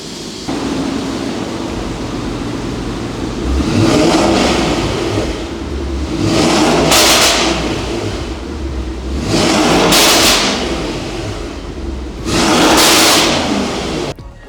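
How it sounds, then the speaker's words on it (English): A Mercedes E63S fitted with aftermarket catalyst downpipes revs hard four times in a row, each loud, close blip rising and falling back to a rumbling idle. "the car sounds absolutely insane with the aftermarket catalyst downpipes"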